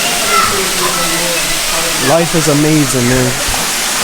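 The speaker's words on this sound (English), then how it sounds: "That's a cool waterfall, man." Waterfall on a hiking trail, a steady broad rush of falling water running throughout, with someone talking over it in the middle.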